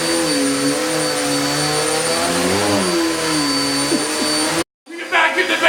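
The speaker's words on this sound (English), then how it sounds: "You can vacuum the bed!" A Hoover Elite Deluxe vacuum cleaner drones loudly and close, its motor pitch wavering and dipping as it is pushed over a bed, then cutting off abruptly before a brief clattering restart, with a voice faintly underneath.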